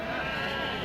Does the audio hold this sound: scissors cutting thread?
no